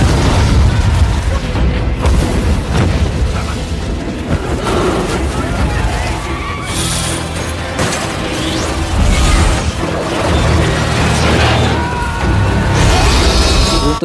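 Heavy booming blasts and crashing debris roll through a dense, chaotic mix as a ship explodes in the film Battleship (2012), with repeated explosive bursts over rumbling noise.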